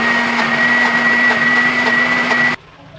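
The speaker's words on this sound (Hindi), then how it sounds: "प्याज और जो टमाटर काटा है उसको भी प्याज में डालकर इसको ग्राइंड कर लेंगे और उसका बना लेंगे एक पेस्ट" A mixer grinder whirring loud and steady while grinding onion and tomato into paste, a constant motor whine that cuts off abruptly near the end.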